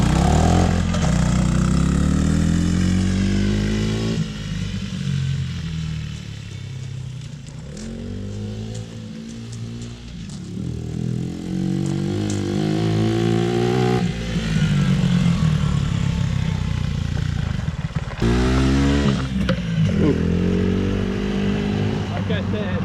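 A Coleman AT125UT with a swapped-in engine runs steadily throughout, its mid-pitched exhaust note rising and falling with throttle and gear changes, loud and close, with people talking over it.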